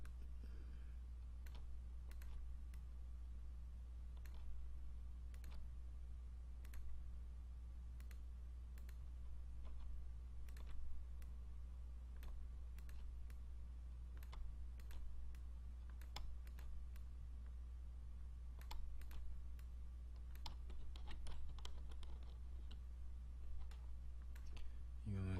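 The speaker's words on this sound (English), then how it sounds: "You're going to keep on going around, clicking and clicking and clicking." Mouse clicks during photo retouching in Photoshop CS6, sharp isolated ticks repeating at irregular intervals over a constant low hum, fairly faint and close.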